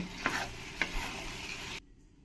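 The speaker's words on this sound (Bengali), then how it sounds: "আমি ভালো করে একবার নাড়িয়ে নেবো নাড়িয়ে আমি একটা পাত্রে তুলে নেব" Spoon stirring a capsicum and bori vegetable curry in a pan, with two quick scraping strokes over a soft sizzle, close and fairly quiet, then sudden near-silence.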